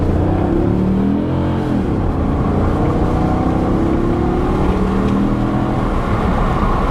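A Maserati Quattroporte S engine roars steadily and loudly up close, a rough, raspy straight-piped exhaust note holding through as the car pulls away.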